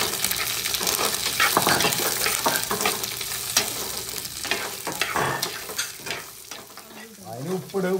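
Chopped small onions sizzle loudly in a pan for a raw cashew nut curry while a spoon stirs them in busy, scraping strokes. The frying runs close and continuous, and a voice briefly speaks near the end.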